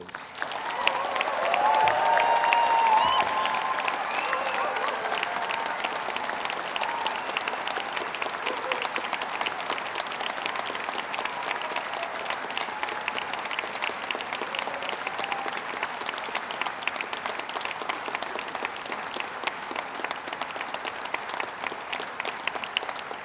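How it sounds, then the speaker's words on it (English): Sustained applause from a large audience at an Open University degree ceremony in Brighton, steady dense clapping that swells early and holds at an even level throughout. "giving all of our amazing graduates a huge round of"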